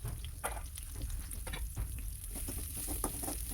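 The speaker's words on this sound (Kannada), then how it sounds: "ಸ್ವಲ್ಪ ಈರುಳ್ಳಿ ಹಾಕಿ ಚೆನ್ನಾಗಿ ಫ್ರೈ ಮಾಡ್ಕೋಬೇಕು" Onions fry in oil in a pan over low flame for spinach rice, giving a steady sizzle with scattered crackles and light stirring scrapes, close up and alone.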